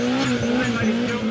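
A car doing a burnout at a New Zealand burnout event, its engine roaring steadily with a continuous screech of spinning tyres, loud and close for a brief burst.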